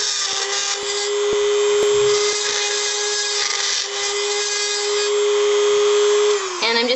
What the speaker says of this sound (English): I'm just going to put the drill in like that